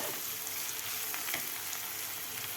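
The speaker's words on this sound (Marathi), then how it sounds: "कापून घेतलेले टोमॅटो सुद्धा आपल्याला 1 मिनिटभर परतून घ्यायचं आहे" Chopped tomatoes for paneer bhurji sizzle briefly in a hot pan, giving a close, steady frying hiss with faint stirring noises and no voices.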